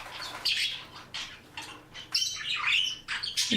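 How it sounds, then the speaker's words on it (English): Java finches kept as pet birds chirp and squeak near sprouted spray millet, a busy run of high, overlapping calls in quick bursts, close and clear. "My Java Finches."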